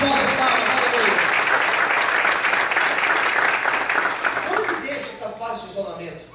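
A church congregation keeps up a dense, steady round of applause that gradually thins and fades toward the end, with voices mingled in the clapping.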